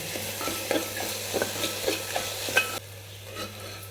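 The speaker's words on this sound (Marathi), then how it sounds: "कांदा छान हलवून देते पाच मिनिट कांदा परतल्यानंतर" Onion fries in oil in a pan and is stirred, with soft sizzling and repeated scraping strokes of the spoon that grow quieter toward the end.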